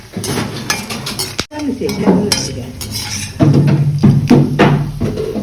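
Fried rice being stirred in a pan at home, with scraping and clinking of a utensil against the metal and a soft sizzle throughout, a brief pause midway, then louder stirring.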